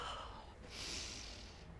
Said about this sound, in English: So can we take a few deep breaths?